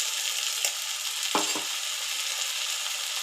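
Paste of garlic, ginger, cumin and green chili fries in hot oil with a steady, bright sizzle, close up, broken by a couple of quick scraping stirs of a utensil.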